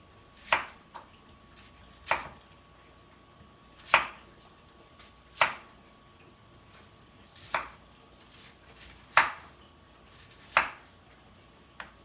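Cauliflower being cut into medium-sized pieces on a board, about eight sharp, distinct chops at roughly one-and-a-half-second intervals, close and clear over a quiet background.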